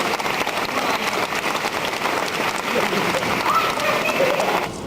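Audience applause for the brave extras at a Disney-MGM Studios show, circa 1990: a dense, steady wash of many hands clapping that stays loud and even from start to finish.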